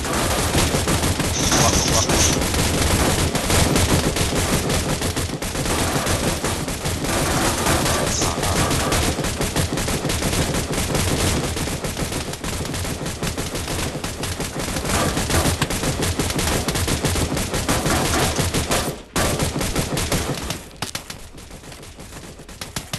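Rapid bursts of video game gunfire fill a live stream session, dense and loud, continuing with little pause for about twenty seconds before dropping off near the end.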